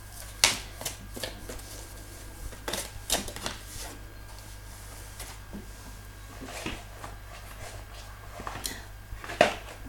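A deck of oracle cards is shuffled by hand for a reading, with soft riffling and sharp card slaps recurring at intervals over a steady low hum, close and fairly quiet.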